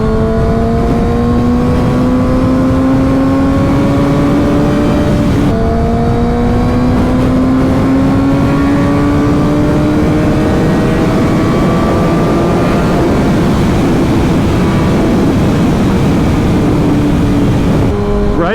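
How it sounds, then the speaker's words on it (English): Loud, steady wind roar buffets a full-face helmet on a moving motorcycle, with engine drone rising in pitch through the gears underneath, continuous for the whole stretch. "Right now the wind is booming in my ears"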